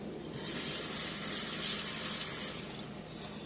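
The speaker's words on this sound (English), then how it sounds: "Let me wash my hands" Tap water runs steadily into a kitchen sink as hands are washed after seasoning fish, a bright, close, even hiss for about three seconds with no talking.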